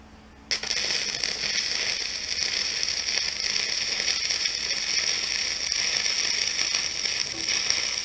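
Arc welding with 2.5 mm rods on a bale bumper, starting with a sharp strike and then a steady, loud crackling hiss that holds evenly for several seconds.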